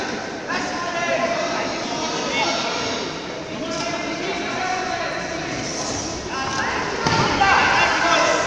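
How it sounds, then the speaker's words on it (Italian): Bare feet stomping on the floor at a traditional kung fu competition in Rome, a run of dull, thudding impacts in steady succession over a busy indoor hall ambience, with voices throughout. "sbatti i piedi"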